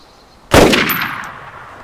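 A single sharp rifle shot rings out in DayZ, loud and close, with a metallic crack followed by a decaying echoing tail.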